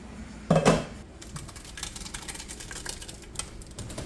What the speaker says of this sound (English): our berries go in the pot